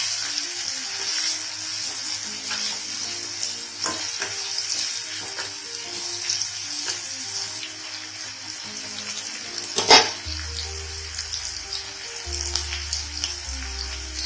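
Chopped onion sizzles steadily in a hot pan, with a soft bright hiss, light stirring and the odd clink, and one sharp clatter partway through.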